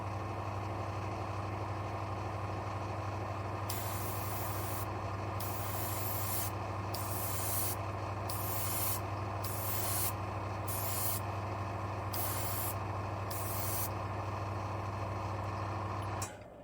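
AK Super Chrome paint sprayed in a coat from an airbrush or spray can, with repeated short hissing bursts of varying length over a steady compressor-like hum, close and alone.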